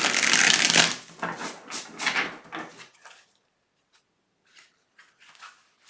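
Tarot cards being shuffled by hand, a loud close riffling and slapping of stiff cards in several bursts at the start, then fading to a few faint soft card taps amid near silence.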